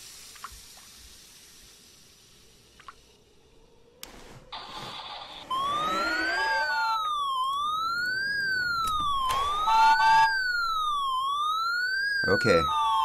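In the video game Frosty Nights, an ambulance siren starts partway through and wails in a loud, repeated rising-and-falling sweep, preceded by faint clicks and a brief buzzing tone, with some quiet talk at the start.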